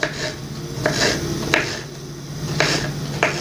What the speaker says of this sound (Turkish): Şimdi salatalıklarımızı keselim. Şöyle küçük küçük.